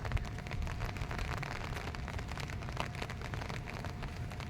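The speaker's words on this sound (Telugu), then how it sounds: "వర్షం స్టార్ట్ అయింది, మళ్ళీ అట్లా 1 kilometer దాకా నడిచి వచ్చాను, కానీ వర్షం స్టార్ట్ అయింది." Rain falling in Tokyo, a steady, dense patter of drops on hard surfaces with a low background rumble, moderately loud and constant throughout, no voices.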